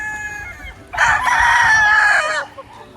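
A rooster among a flock of early bird pullets gives one loud, close crow lasting about a second and a half, with faint clucking before and after.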